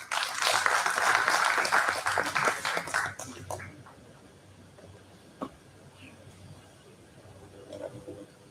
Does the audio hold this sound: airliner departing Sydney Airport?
no